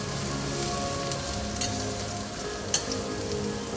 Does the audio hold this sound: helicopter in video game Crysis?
no